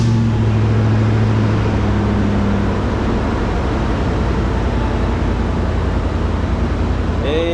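A 2,306-horsepower V8 turns over and runs after a period of storage, a loud, steady broadband roar with a low idle drone sustained throughout and a brief tonal hum early on.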